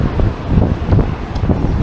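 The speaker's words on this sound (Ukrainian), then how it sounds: "Тут, звісно, вітер дуже сильний." Loud, constant wind buffeting a microphone outdoors in a downtown street, a dense low rumble with gusty swells and no other clear sounds.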